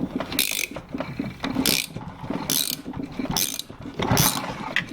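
Nut buster tool turning on a seized, dirty-threaded nut during shaft seal work, giving a steady run of ratcheting, gear-like mechanical clicking with repeated bright bursts, close and fairly loud throughout.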